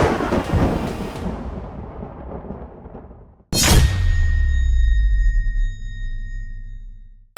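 Heavy monsoon rain hisses loudly in Rajasthan and fades. Then a sudden close thunderclap cracks and rolls into a long deep rumble, with faint sustained tones over it.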